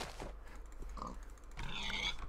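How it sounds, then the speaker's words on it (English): Minecraft pigs grunt and oink in a short burst over a faint game background, with a couple of small clicks of play mixed in, quiet and close. "There's a lot of pigs here"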